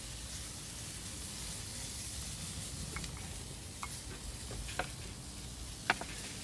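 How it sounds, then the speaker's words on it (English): Pork chops basting in real butter in a pan give a steady, soft sizzle throughout, with a few faint scrapes and taps of a spoon near the end. "we're just going to baste them in a little bit of butter"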